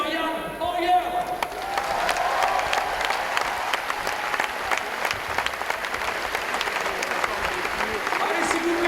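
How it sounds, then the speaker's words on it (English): Sustained applause from a large crowd at a men's bouldering final of a climbing world championship in Paris, loud and steady throughout with dense clapping and some cheering, an announcer's voice faintly under the noise. "Applaudissements pour l'Allemand, Mr. Jan Hoyer."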